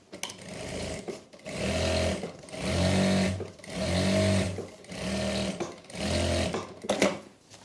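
Domestic sewing machine stitching a salwar seam with a half-inch margin, five steady bursts of motor whirr and needle chatter, each about a second long, separated by short pauses.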